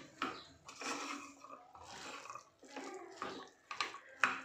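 Chickpea curry (chole) is stirred and sautéed in a pan, giving intermittent scraping and sizzling bursts with short pauses between stirs, close and moderately quiet.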